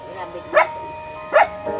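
A dog outside a rural Filipino home gives two sharp, fairly close barks about a second apart over a quiet background.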